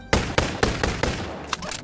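Video game gunfire: about six sharp, loud shots fired one after another at a steady pace, followed by a few fainter bursts, with no talking.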